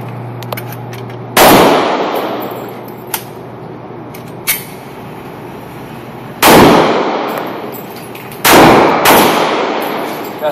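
Three loud, sharp gunshots from a Glock 30S .45 ACP pistol fired at a shooting range, spaced several seconds apart, each with a short echoing decay, alongside a few fainter distant pops.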